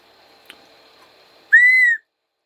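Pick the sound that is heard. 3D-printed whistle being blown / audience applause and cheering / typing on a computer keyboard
3D-printed whistle being blown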